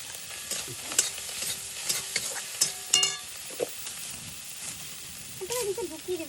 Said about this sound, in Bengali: এটা কিন্তু রুই মাছটাকে ভাজা ভাজা করবো।